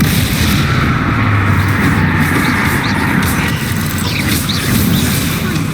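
Confringo and Bombarda spells detonating in combat in Hogwarts Legacy, a dense, continuous barrage of booming blasts and rumble filling the whole stretch at high volume with no talk.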